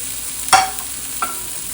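Chopped hot dog pieces for a spicy sausage masala are stirred in a frying pan: two brief scraping strokes over a faint sizzle, close and without talk.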